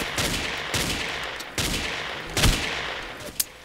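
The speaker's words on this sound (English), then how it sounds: "Being shot at." Video game gunfire in Ace of Spades, a fast string of loud shots with bursts and a few sharper cracks near the end, close and steady with no talk.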